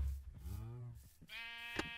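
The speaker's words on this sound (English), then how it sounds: "Shut up, sheep." Sheep in the video game Minecraft bleat in two long, wavering calls, loud and close, with a short sharp blip near the end.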